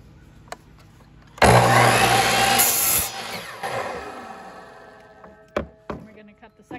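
A wooden board being cut to length for a screen door frame: a loud power saw bursts in, whines steadily for about two seconds, then winds down and fades, with a few knocks and taps before and after.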